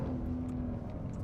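A 2021 Lexus RC F Track Edition engine under throttle on a race track, a loud, steady, droning roar with a held tone that stays close throughout.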